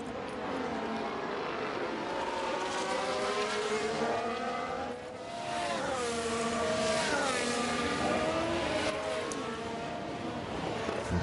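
Engines of race cars in F1 Manager 23 at Sakhir, one car closing on another and passing, with a steady loud whine whose pitch sweeps up and down through the pass.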